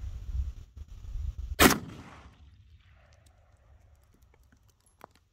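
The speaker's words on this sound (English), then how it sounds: "We're shooting the middle with the 1 ounce slug." A single sharp shotgun blast firing a 1 ounce slug, loud and abrupt, followed by a decaying echo and a few faint clicks in otherwise quiet outdoor surroundings.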